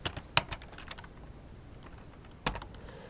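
Keystrokes on a computer keyboard, a handful of close, sharp clicks clustered at the start and another couple near the end, with quiet gaps between and no talk.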